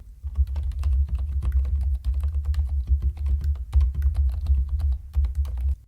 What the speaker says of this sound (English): here is an example of what my new keyboard sounds like